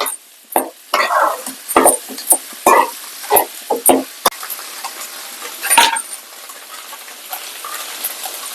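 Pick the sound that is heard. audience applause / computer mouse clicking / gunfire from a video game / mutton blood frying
mutton blood frying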